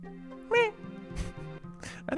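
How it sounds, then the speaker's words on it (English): A pet cat gives a few short meows, one clear rising call near the start and fainter cries later, half-masked by a steady background tone. "She's meowing a lot right now."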